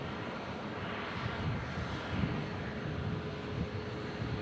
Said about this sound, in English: this is Alaska 312 from Seattle on a 737-900